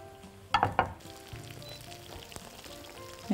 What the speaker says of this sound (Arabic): نقليها بقى كده لغاية ما تاخد لون حلو من الجنبين